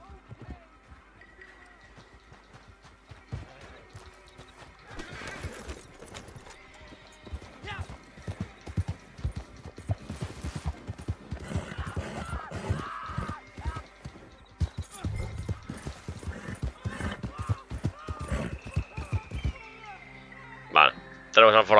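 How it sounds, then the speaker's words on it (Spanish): Horse hooves clip-clop and gallop in Red Dead Redemption 2, with repeated neighs and whinnies over steady pounding strides, building in intensity, while players talk throughout. "Caballo, tío."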